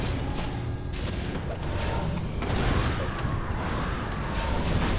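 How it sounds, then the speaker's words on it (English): Mortar fire in the video game Warcraft III makes a dense, continuous run of booming impacts and crashing battle noise that stays loud throughout, with no clear speech. "what do you do against these mortars?"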